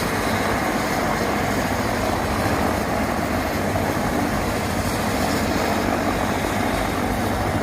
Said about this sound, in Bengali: ইতিমধ্যে দেখতে পাচ্ছেন হেলিকপ্টার